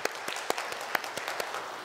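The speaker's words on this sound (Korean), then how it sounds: "우리 하나님께 감사 박수 칠까요?" Church congregation applauding together indoors, a dense run of overlapping hand claps with a few sharper individual claps, moderately loud and steady throughout.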